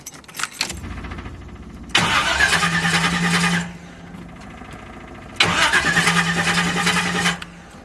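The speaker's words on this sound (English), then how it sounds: "Let's see, wifey car always crank up." A Chevy car engine cranks in two long, loud whirring bursts with a steady droning tone, preceded by a light jangle of keys and separated by a brief lower rumble.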